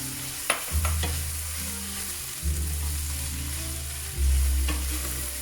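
Swiss chard stalks dumped into a pot and sautéing with a steady sizzle and occasional stirring scrapes, loud and close, with no talking.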